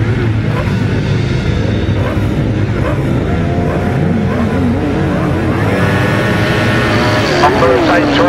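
Right-hand sidecar motorcycles racing flat out on a British Masters grasstrack, a loud continuous roar of several engines with rising and falling revs, a commentator talking over it throughout.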